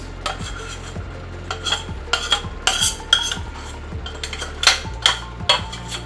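A utensil scrapes and clinks against a bowl as the last of a peanut butter mixture goes into a pan with chicken and zucchini. Quick metallic scrapes and taps repeat at close range over a low background hum.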